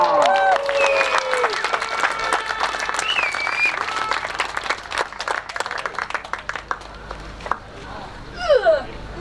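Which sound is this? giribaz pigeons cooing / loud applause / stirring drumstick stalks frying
loud applause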